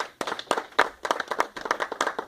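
A church audience at a Valentine's Day couples dinner claps to welcome a couple coming forward, a lively, uneven burst of many hands beating in quick irregular rhythm at close range.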